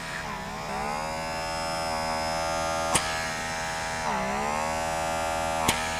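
A Lumina Dermapeel pore vacuum device hums steadily up close, its buzzing motor pitch dipping and recovering a couple of times as suction catches on skin, with a few sharp clicks over the continuous drone.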